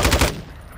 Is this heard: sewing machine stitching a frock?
no